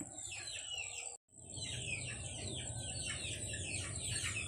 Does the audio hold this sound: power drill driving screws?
no